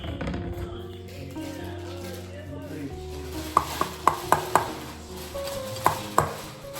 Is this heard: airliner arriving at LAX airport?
no